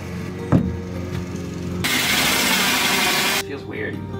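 A power tool cuts into the wall of a cargo trailer being converted into a tiny home, a steady loud buzzing cut lasting about a second and a half after a sharp knock, with a faint whine before and after.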